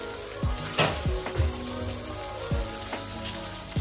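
Ghee hits chira polau, a flattened-rice pilaf, sizzling steadily in a pan, with several dull spoon thumps against the metal at irregular intervals and no voices.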